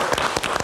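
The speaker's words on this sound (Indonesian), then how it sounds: "Kita kasih tepuk tangan dong untuk Arya." Short burst of audience applause at a live Indonesian talk show, dense clapping filling the whole moment at steady loudness.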